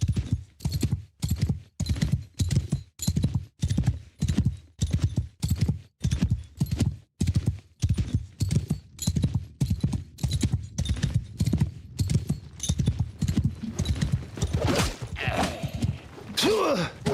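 Horse hooves clip-clopping in a regular, heavy rhythm of evenly spaced beats, close and loud, with some vocal sounds breaking in near the end.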